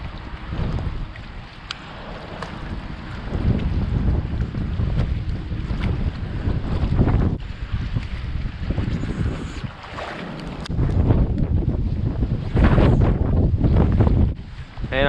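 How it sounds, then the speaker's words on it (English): Floodwater gushes out of an urban drain pipe, a steady rushing churn of water mixed with gusty wind buffeting on the microphone, swelling louder in bursts toward the end. "There's a pipe that's gushing out of here."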